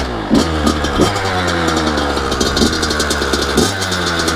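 A Kawasaki KX100 dirt bike fires up after a kick start and idles with a loud, close, rough engine drone and a few throttle blips, with no talking.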